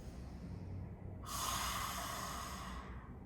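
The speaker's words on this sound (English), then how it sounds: "on the exhale, we make it big and stick our tongue out" A forceful breath exhaled with the tongue out during a yin yoga posture, a single loud, breathy rush lasting about a second and a half after quiet breathing.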